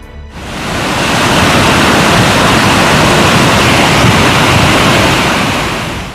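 Black, mud-laden floodwater rushing down a mountainside river, a loud continuous roar that swells in quickly and holds steady for several seconds.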